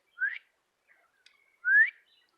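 Two short rising whistles, clearly produced by a person imitating a call, separated by a brief pause with faint sounds between.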